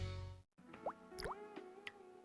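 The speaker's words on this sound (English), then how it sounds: "Drips can become drenchers." Water drips in a TV plumbing advert, a few distinct plopping drops falling one after another over a faint tonal background hum, close and quiet.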